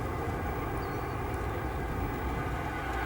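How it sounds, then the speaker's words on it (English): A SkyWest CRJ 200 regional jet departing O'Hare makes a constant, broad engine roar that stays steady and moderately distant for the whole short stretch, with no talking. "Got a CRJ 200 departing."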